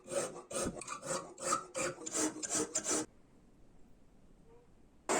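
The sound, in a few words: filing the bevel of a knife made from saw blade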